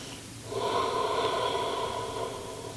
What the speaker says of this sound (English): breathe 2 more full breaths